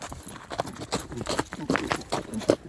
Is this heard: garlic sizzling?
no